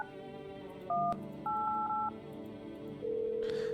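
Phone keypad dialing while ordering something in a video game: a short pair of electronic beeps, then a quick run of tones, and finally one longer steady tone over a faint background hum, with no talking.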